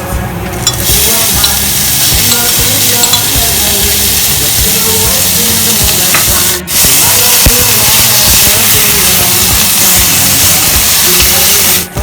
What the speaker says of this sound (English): Stir fry butter and onion until it cooks.